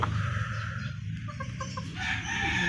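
A white Kelso rooster crows in a backyard, one full crow with clucking fowl nearby, clear and fairly close over steady outdoor noise.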